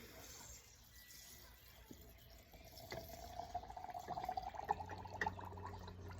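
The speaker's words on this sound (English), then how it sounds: "Then I'm going to pour this cane alcohol over the top." Cane alcohol poured from a container over plantain leaves in a jar for a liniment, a faint liquid trickle that grows into a steady gurgling pour with small splashes, close by and quiet.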